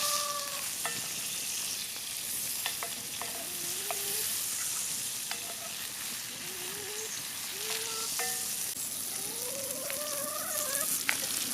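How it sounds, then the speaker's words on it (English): Food sizzles and fries in a pan over an outdoor campfire, a steady close crackling hiss with occasional pops and faint stirring scrapes, running continuously without talk. "You hear it sizzle?"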